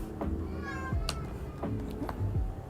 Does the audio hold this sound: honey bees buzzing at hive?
no